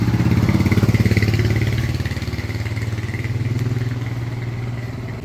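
A motorcycle engine runs steadily close by while carrying riders on a road trip at night, with a constant low throbbing hum and slight clattering that eases a little partway through.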